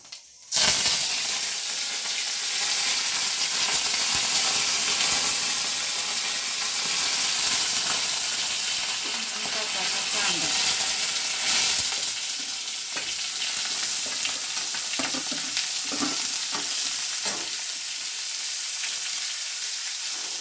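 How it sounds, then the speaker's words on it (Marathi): Cumin and mustard seeds crackle in hot oil for a tomato chutney, producing a dense, continuous hissing sizzle with scattered pops and occasional stirring sounds close by. "जिरं आणि मोहरी टाकायचं त्यात। चांगले तडा तडू द्यायचं।"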